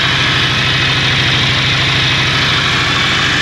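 A Ducati Monster 600 motorcycle engine idles close by after a timing belt change. It gives a loud, steady, lumpy throb with a fast, even pulse that continues without a break, and no talking is heard over it.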